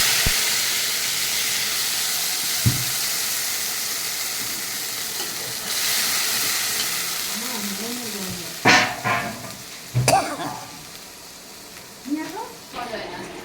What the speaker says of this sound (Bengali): আমার মশলাটা প্রায় ভাজা হয়ে গেছে।